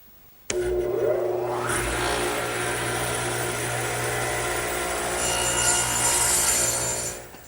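A radial arm saw cuts a wooden armrest for an English garden bench, starting abruptly and holding a loud, steady, close whine through the cut before winding down at the end.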